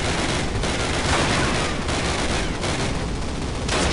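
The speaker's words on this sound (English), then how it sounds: "I don't know who they're shooting at" Loud, dense gunfire in a Call of Duty battle, rapid automatic bursts and overlapping shots filling the whole stretch with little pause.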